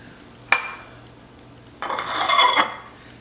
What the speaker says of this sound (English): so I was able to mix the two of them together. And you're going to stir.